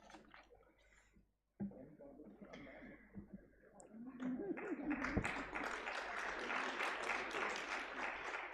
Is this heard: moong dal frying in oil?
no